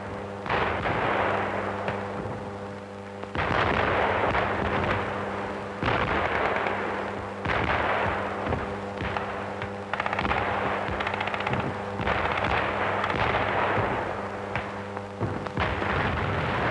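Artillery and gunfire from a WWII newsreel battle at the bunkers: repeated heavy booms and bursts of rapid fire over a constant hum, loud and dense throughout, with no voice.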